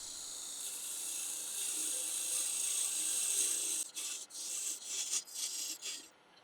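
Laburnum wood being cut on a lathe at the cut-off point of a goblet gives a steady, close, hissing scrape for several seconds, then breaks into shorter scraping strokes with brief pauses between them.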